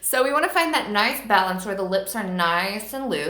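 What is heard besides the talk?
None of the usual background noises is heard.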